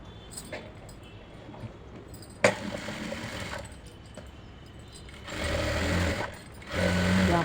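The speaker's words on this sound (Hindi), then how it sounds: "दूसरी बॉटम पे इसी तरह से सिलाई लगाऊंगी।" A sewing machine stitches the hem of a palazzo in bursts, running steadily for a few seconds, pausing, then starting again, close and fairly loud with no talking.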